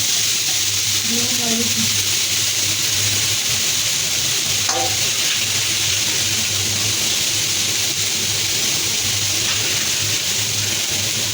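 Potatoes and bottle gourd stems cooking in a wok, a loud, steady sizzle and bubbling with occasional stirring scrapes, while a voice talks over it in places.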